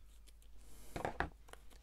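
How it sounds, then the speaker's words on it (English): Scissors cut the white bits of paper off a paper craft folio, giving a few quiet, crisp snips in quick succession close by, with faint handling rustle between them. "Just cut any of the white bits off."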